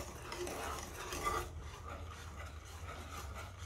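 Low-fat milk is stirred into a trifle mixture in a bowl, producing soft, faint scraping and swishing at close range for a few seconds.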